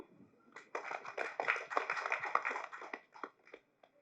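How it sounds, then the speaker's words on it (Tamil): Sparse applause from a small audience at a Tamil film audio launch event, a few scattered hand claps rising briefly then thinning out to isolated claps, moderately distant. "கைத்தட்டிய 10 பேருக்கு நன்றி சொல்லி"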